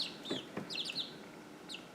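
Young chicks raised on medicated starter feed, giving a few scattered high peeps and soft clucks close by, no talking, with quiet gaps between calls.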